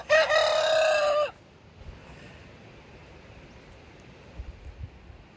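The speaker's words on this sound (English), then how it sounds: "You can tell that white rooster is just kind of figuring out that he's a rooster by his cock-a-doodle-doo" A young white rooster crows once, loud and close, in a short, slightly immature cock-a-doodle-doo lasting about a second, followed by quiet outdoor ambience with faint rustles.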